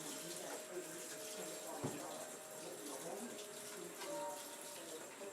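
Hands washed under a running tap in a burn wound care clinical setting, a steady close rush of water with slight splashing shifts throughout.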